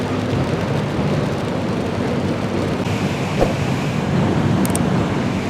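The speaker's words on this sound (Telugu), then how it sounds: "సో వర్షం అయితే స్టార్ట్ అయిపోయింది" Rain begins on a Nallamala forest road during a Bajaj NS200 motorcycle ride: a loud, constant hiss of falling drops over a low rumbling background, without pauses.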